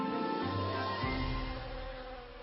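Honey bees around a hive buzz in a close, droning hum with shifting pitch, quiet but steady through the moment, with no voices.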